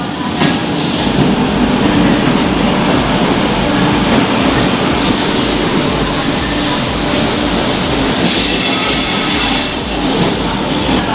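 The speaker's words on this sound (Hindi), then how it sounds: "15 मिनट की देरी से अपनी आ चुकी भाई सचखंड एक्सप्रेस के न्यू दिल्ली का प्लेटफॉर्म 5 पे" Sachkhand Express pulling into platform 5 at New Delhi behind a WAP7 electric locomotive, a loud steady rumble of rolling carriages with faint clicking wheels, close by and continuous, with no clear speech.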